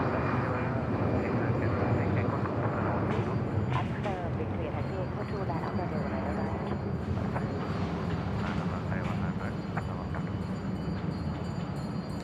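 Viet Travel Airlines Airbus A321 airliner taking off at Bangkok Suvarnabhumi Airport, a broad, steady engine roar sustained throughout, with people talking over it.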